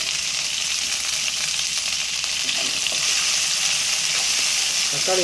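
Tomatoes sizzle and fry in a hot pan for an egg drop gravy, a loud, steady hiss with light stirring throughout and no talking.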